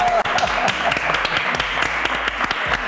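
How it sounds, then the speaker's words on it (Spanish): Studio audience applause on a daytime TV show welcoming a guest, brisk, full clapping throughout with a host's voice briefly over it at the start. "fuerte el aplauso"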